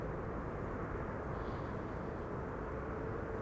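A TUI airliner arriving from Cancun, its engines a steady low rumble heard from a distance at an airport with no talk over it.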